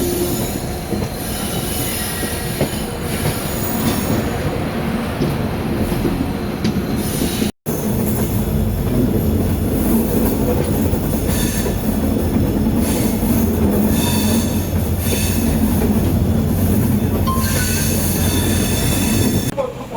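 A passenger train leaving Tiruvarur Junction and rolling along the Thiruthuraipoondi route toward Karaikudi, with a loud, steady roar of wheels on rails, squealing and clattering joints heard from on board.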